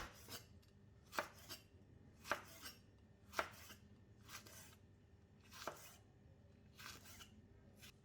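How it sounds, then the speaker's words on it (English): Knife chopping green chillies slantwise into thin slices after the stems are removed, giving separate crisp cuts against a board at an uneven pace, with a few louder strokes between softer ones and no talking. "cut all the green chili slantingly into thin slices"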